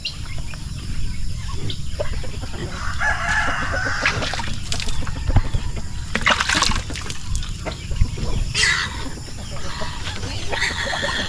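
Chickens cluck and call nearby over a steady outdoor background, with a crowing rooster standing out among the flock.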